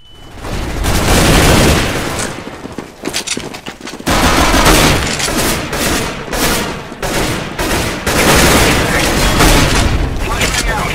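A video-game firefight with flashbang blasts and heavy gunfire, loud, dense and nearly continuous, with rattling bursts and booms. Voices speak over it at times.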